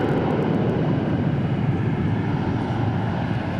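A jet airliner roars steadily down runway 18R at Dallas/Fort Worth International Airport on departure, a loud, continuous broadband rumble that holds at full strength the whole time with no talk.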